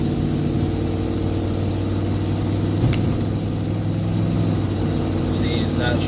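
A 1998 Ford Expedition engine runs steadily at a low rumble, with a brief change in tone partway through as it shifts gears.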